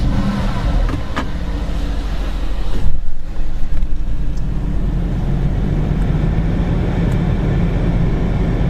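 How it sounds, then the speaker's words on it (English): A Mercedes AMG GTS engine fires up and settles into a loud, steady idle with a deep burble, heard close by with no talking. "Let's start the car up."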